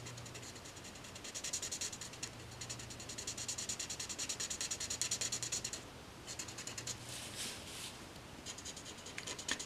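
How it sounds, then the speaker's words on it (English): Faint, close scratchy rubbing of an ink applicator scrubbing and blending red ink into orange on paper for a stamped card. It runs in quick repeated strokes with a few brief pauses. "I'm scrubbing over the red to make it orange and to blend it."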